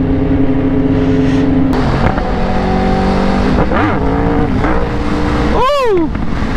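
A Yamaha R1 sport motorcycle engine revs hard with a loud, near, high-pitched howl that rises and falls in several sharp throttle blips, the last climbing highest. Someone talks over it.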